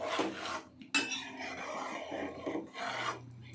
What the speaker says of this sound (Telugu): ఒక్కసారి అంతా కలిపేసి